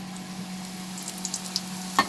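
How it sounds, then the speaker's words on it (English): Puri frying in hot oil for halwa puri, a soft steady sizzle with a few small pops and a sharper crackle near the end, close and without talk. "Puri is fried. We will add another puri."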